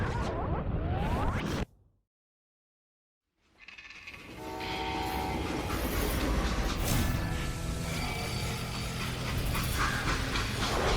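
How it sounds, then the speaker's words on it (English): A freight train rumbles loudly in the video game Call of Juarez Gunslinger, with a horn-like tone over the steady rolling noise. Sound cuts out completely for about two seconds, then the heavy rumble returns and holds. "They hopped a freight train"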